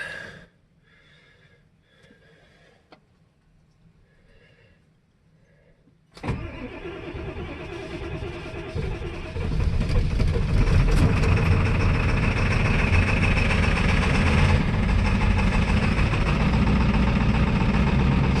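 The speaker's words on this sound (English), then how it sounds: "Cold start, 32 degrees Fahrenheit." Cold start of a Ford F-350 or Dodge Cummins turbo diesel truck at freezing temperature: a few faint clicks and quiet hum, then the starter cranks and the diesel fires, settling into a loud, steady, rough idle that grows heavier.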